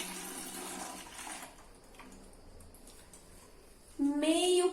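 A glass of water is poured into a tall transparent container for a dancing-corn experiment, a short, bright filling splash with a rising pitch near the end, after a quiet stretch with faint background voices.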